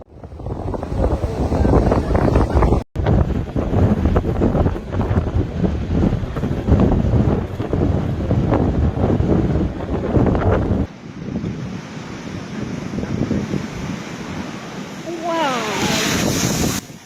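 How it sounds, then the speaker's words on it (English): Storm Patricia drives strong winds and crashing waves into the Brittany town of Saint Malo at high tide, a loud, continuous roar of surf and buffeting wind noise with a brief break partway through. "strong winds and waves crashed into France's northwestern town of Saint Malo in Brittany during high tide as Storm Patricia passes"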